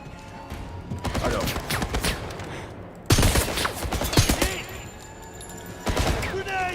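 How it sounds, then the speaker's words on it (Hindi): A burst-fire gun is fired repeatedly in the video game 007 First Light, with rapid clusters of sharp shots and impacts close up, separated by brief pauses, while someone talks over the gameplay. "burst fire gun"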